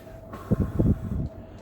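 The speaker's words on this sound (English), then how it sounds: "There's a train coming through." A passing train rumbles briefly in the distance near an outdoor cooking spot, a low, muffled rolling swell lasting about a second with no talk over it.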